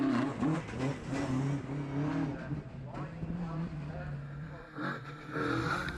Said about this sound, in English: Stephen and Jack Tilburn light up their tyres off the line.